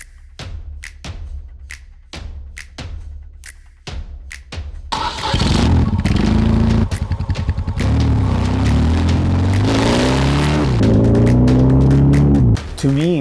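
A vintage BMW boxer motorcycle cranks with a series of sharp starter pulses, then catches and runs with a loud, close engine that rises and falls as the throttle is blipped.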